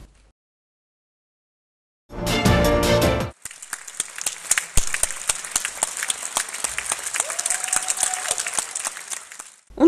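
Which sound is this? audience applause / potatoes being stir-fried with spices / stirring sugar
audience applause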